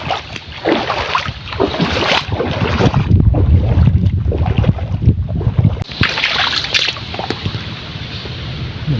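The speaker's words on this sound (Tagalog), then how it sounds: "Mahangin." Strong wind gusting outdoors near a mangrove shoreline by the water, a loud continuous rushing roar with surging gusts and buffeting against the microphone, no voices.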